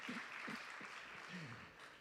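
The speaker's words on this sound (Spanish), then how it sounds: "Denle un aplauso, así se le van los nervios." Applause from a church congregation welcoming a deacon forward, a steady broadband patter filling the space while a voice speaks over it.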